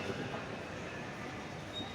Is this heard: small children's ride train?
yes